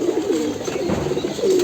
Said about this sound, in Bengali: এই যে এটা হচ্ছে মাদি কবুতর